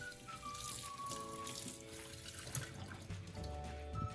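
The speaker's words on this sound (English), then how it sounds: "Rinse them briefly under clean running water to remove any dirt." White mushrooms rinsed under a running kitchen tap, a steady splashing stream of water with faint shifting tones as the mushrooms move through it, close and continuous without talk.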